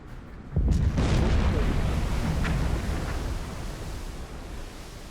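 A torpedo hits a ship in Silent Hunter 4, a sudden heavy boom that rolls into a long, deep rumbling roar which slowly fades.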